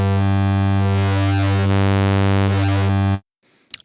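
Vital software synth wavetable patch with spectral blend style, a sustained buzzy harmonic tone with a slowly sweeping, shimmering upper texture, loud and alone, cutting off abruptly near the end.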